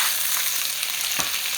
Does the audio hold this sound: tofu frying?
yes